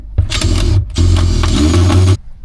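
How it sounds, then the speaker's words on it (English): An electric screwdriver removing screws from a chair at a riverside camp, two loud close bursts of high motor whine with a brief gap between, stopping abruptly. "making a screwdriver, an electric screwdriver."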